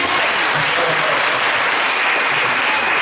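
A church congregation at a worship service applauds to acclaim Jesus Christ, with loud, dense, sustained clapping from a large crowd that fills the space without a break.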